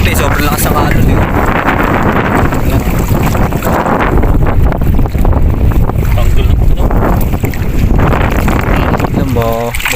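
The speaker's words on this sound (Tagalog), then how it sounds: "sobrang lakas ang alon eh" A small outrigger fishing boat with a broken outrigger is pounded by strong waves at sea. Loud, continuous rushing water and heavy wind buffeting the microphone fill the whole stretch, with no pause.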